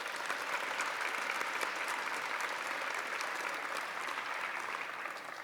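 A large audience at a Computer Science Education Week kick-off applauds teachers, with loud, sustained, dense clapping that holds steady for several seconds and then tapers slightly.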